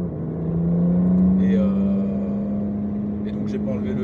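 A BMW 135i M Performance engine while driving, a steady low drone with a slight rise in revs, heard from inside the car alongside a faint bit of talk.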